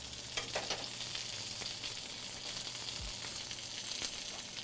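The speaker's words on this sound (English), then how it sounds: "Just giving this stuff a little stir around in here." Pork sears in a hot pan and gets stirred, giving a steady soft sizzle with scattered crackles and pops and a brief scrape of the utensil, fairly quiet and close.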